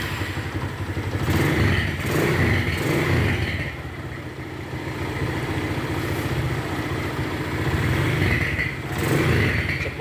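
A Megapro/Tiger motorcycle engine with an upgraded full-wave stator idles steadily close up, a continuous low rumble with slight rises in loudness and no speech.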